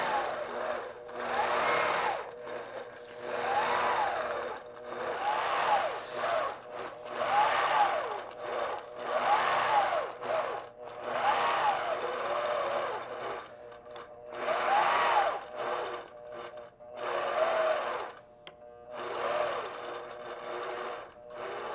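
A sewing machine stitching a piano keys quilting design guided by a ruler, its motor whirring steadily in repeated runs of several seconds separated by brief pauses.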